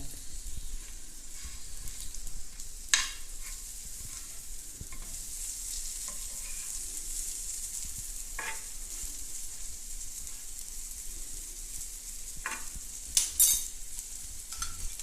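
Okra frying in a little oil in a pan for a Goan-style bhaji, giving a steady soft sizzle and hiss throughout, with a few sharp clinks and scrapes of a utensil stirring now and then.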